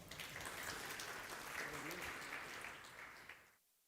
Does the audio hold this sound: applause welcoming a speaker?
yes